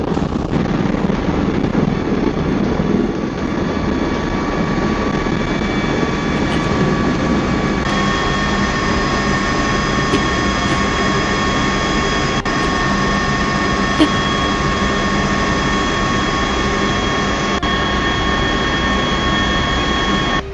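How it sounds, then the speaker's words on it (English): Osprey tiltrotor aircraft start their engines and spin up their rotors in helicopter mode on a deck, giving a loud, continuous turbine roar with a steady whine that holds throughout. "The Ospreys started their engines, rotors spinning up in helicopter mode."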